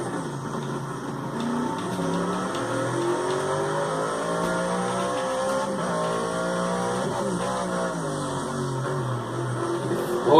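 Turbocharged car engine revving hard, its rising and falling tones layered with the whistle of the turbo spooling up, loud and close, with a sharp burst at the very end.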